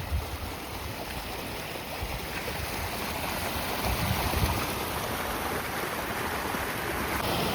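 Floodwater coming down from the hills after unseasonal rain rushes past in a continuous churning torrent, steady and fairly close, with no voices.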